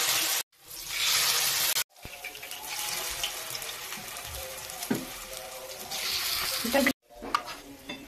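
Food hitting a very hot tawa and sizzling loudly, a bright crackling hiss broken by short pauses and scraping, heard close and alone.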